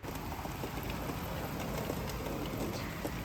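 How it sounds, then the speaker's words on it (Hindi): Heavy rain pours down outdoors in London, a dense steady hiss of drops striking surfaces with scattered sharper patters, close and continuous without speech. "यहाँ पर इतनी तेज़ बारिश हो रही है अभी तक"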